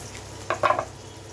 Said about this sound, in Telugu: దీనిలోకి పచ్చిమిర్చి చీలికలు కూడా 4 వేసుకొని ఈ పోపుని అయితే ఫ్రై చేసుకోవాలి.